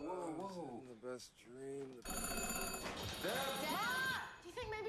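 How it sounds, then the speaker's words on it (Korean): An old telephone switchboard's call bell rings in a tense horror setting, a loud sustained electric ring that starts abruptly after a stretch of eerie tonal sound and continues with shifting layered tones. "엄마가 사용하던 오래된 전화교환기에 호출벨이 울리기 시작하죠."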